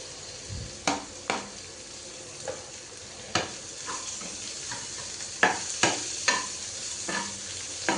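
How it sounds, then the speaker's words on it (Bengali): Potatoes frying in a pan make a soft steady sizzle, broken by a dozen or so sharp scrapes and knocks as a utensil stirs them at irregular intervals. "আমি অনেক দূর থেকে নাড়ছি, সামনে স্ট্যান্ডটাকে রেখেছি"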